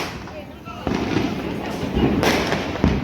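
A few sharp firecracker bangs burst out at intervals during Diwali, with people talking and background noise around them.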